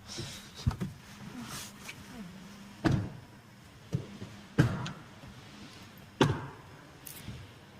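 Several sharp door clunks and thuds from an Audi e-tron GT as people climb out, spaced irregularly over a few seconds with soft rustling and movement between them, recorded close by.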